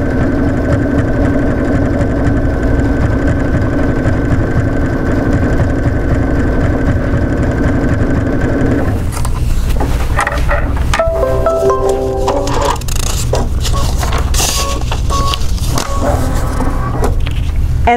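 An embroidery sewing machine stitches a decorative satin stitch down the center of a pocket on a tooth fairy pillow, running steadily for several seconds, then shifting into a choppier, rapid mechanical whir with irregular clatters.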